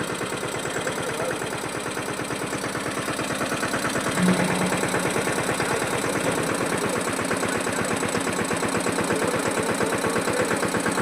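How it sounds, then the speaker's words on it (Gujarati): A farm tractor engine idles while it warms up, making a close, steady, rapid low-pitched chugging with an even rhythm throughout. The engine runs alone with no talking. "ટ્રેક્ટર ચાલુ કરી લીધું, જરીક વાર ગરમ કરી લઈએ."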